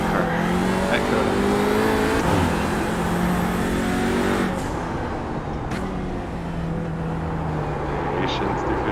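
An Audi RS3 TCR race car in the iRacing video game roars loudly at COTA, its engine pitch climbing and then dropping sharply at each gear change along a fast straight.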